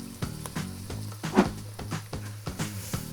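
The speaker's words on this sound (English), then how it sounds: "So you saute the garlic for just about a minute" Garlic sautés in melted butter with onion, a soft sizzle under a run of rhythmic spoon taps and scrapes against the pot, close and moderately loud.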